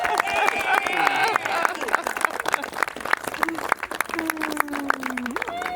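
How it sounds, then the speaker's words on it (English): Wedding guests clapping right after the couple is pronounced husband and wife, brisk dense applause with some cheering and chatter mixed in, close and lively throughout. "Give a round of applause, everyone."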